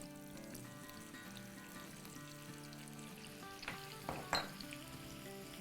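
Ground onion frying together with spice-stuffed eggplants in Hyderabadi style, a steady low sizzle under soft background music, with a few sharper spatters and clatters near the end.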